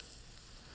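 Collard greens hitting hot oil in a metal pan make a brief, even, hissing sizzle, soft and continuous without pauses or voices.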